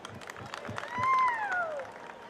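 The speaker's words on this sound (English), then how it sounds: "a huge round of applause for our respected judges" Audience applause and clapping at a college DJ event, a steady crowd patter rising briefly louder midway, with an amplified voice carrying over it.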